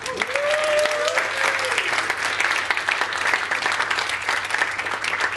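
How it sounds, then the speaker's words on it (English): A church congregation gives a round of applause, with dense clapping holding steady throughout and a voice calling out briefly at the start. "can we give a round of applause for our pandemic weddings?"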